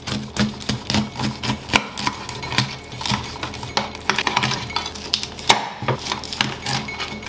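A good kitchen knife cuts off the base of a pineapple, making a quick run of sharp, rhythmic chopping taps and clicks close up, with no talking.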